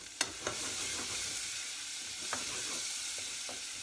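Onion, garlic and mint frying in a pan, a steady bright sizzle with a few sharp clicks of a utensil against the pan early on, close and continuous, no voices.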